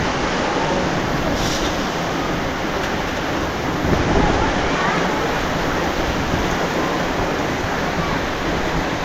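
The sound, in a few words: heavy rain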